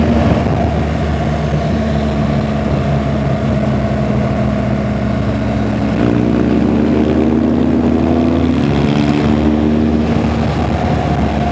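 Heavy road traffic in Bharuch surrounds a motorcycle ride, a loud continuous engine roar and wind rush with rising and falling motor tones from nearby vehicles.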